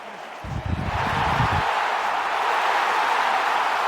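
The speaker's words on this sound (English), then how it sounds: "you can hear the Long Island crowd go crazy" A Long Island crowd at a Rise League football game between Guam Carabao and Long Island Hornets roars loudly and steadily as a broad, sustained cheer that swells early and holds.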